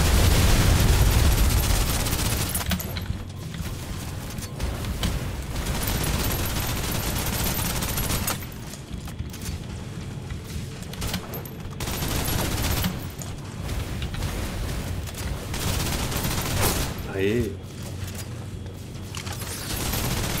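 Sustained suppressive gunfire from the video game Snowbreak rattles through a dense barrage of rapid shots mixed with explosive bursts, loud and continuous with only brief lulls.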